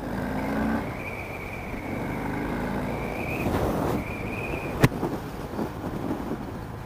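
A 2018 Harley-Davidson Fat Bob 114 motorcycle accelerates hard at full throttle on an open road, its steady loud engine roar rising in pitch through gear changes, with a brief sharp knock partway through and no talking.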